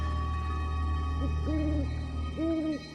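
An owl hoots in a forest: two or three clear, drawn-out hoots rising over a steady hum of night insects, fairly close and distinct.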